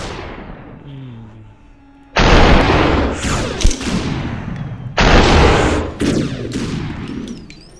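Gunshots from shooting an enemy in the video game SUPERhot, with two loud, sharp blasts about three seconds apart, each trailing into a ringing decay.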